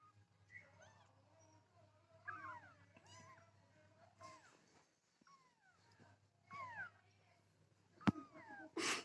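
A black kitten meows repeatedly in short, rising calls, close by, with people talking around it in a home.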